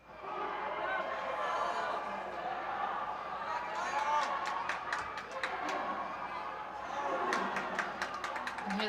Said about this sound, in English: You can hear the crowd cheering him on.